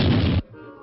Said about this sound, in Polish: Kiedy tak biegał, opodal padł strzał.